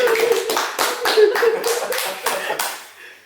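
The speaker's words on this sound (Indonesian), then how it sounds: "Tepuk tangan untuk Mr. Denny." An audience at a casual comedy talk show claps for a guest star in bursts, with several distinct waves of hand claps close by and a voice sounding over the start before fading out.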